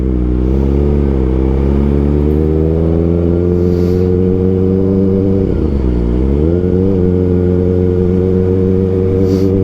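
A Kawasaki ZX4RR motorcycle engine drones steadily and loudly up close while riding a mountain road, its harmonic whine rising and falling with throttle changes and a brief dip near the middle before climbing again.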